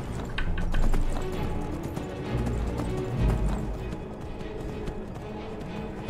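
Horse hooves clip-clop steadily at a gallop in Skyrim, a ride through snowy country, with a continuous rhythmic thudding that stays fairly loud and close throughout.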